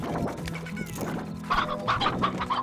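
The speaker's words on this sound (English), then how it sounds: "Now let's grab some of these hens and stone hens." Hens cluck in the Slime Rancher video game, a few short bursts of clucking up close with a low background hum and no speech.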